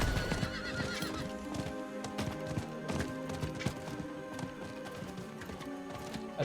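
Horse in the video game Diablo IV, with loud repeated neighs and a rapid clip-clop of hooves running steadily throughout, alongside game sounds and no talk.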